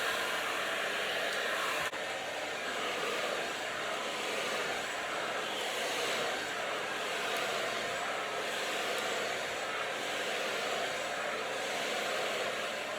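A hair dryer blows steadily and without a break while a blunt haircut is being dried, a close, constant rushing roar.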